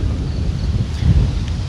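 Strong wind buffets the microphone in a steady low rumble with gusty surges, loud and continuous throughout, outdoors with no talking.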